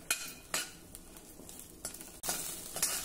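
Chilies and cumin dry-roasting in a pan give off soft crackling while a spoon scrapes and taps the pan in a few sharp, close strokes, with no talking.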